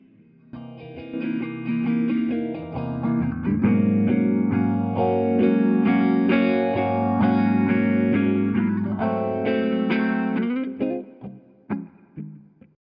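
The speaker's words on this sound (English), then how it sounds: "you can hear only the reverb playing" Reverb send soloed on a song mix: sustained distorted, effect-laden tones swell and hold with a washy, spacious reverb tail, then fade into scattered echoing decays at the end.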